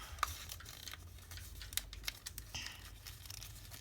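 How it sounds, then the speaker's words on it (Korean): Rabbit-ear shapes are folded from colored paper by hand, giving faint, close crinkling and sharp creasing snaps scattered irregularly over quiet room tone, with no talking. "반대쪽도 똑같이 접어줄게요."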